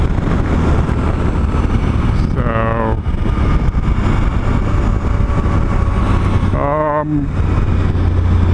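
Suzuki V-Strom 1000 motorcycle accelerating on a roll-on in sixth gear, a loud, steady engine and wind roar filling the whole stretch, with two brief tonal whines rising over it.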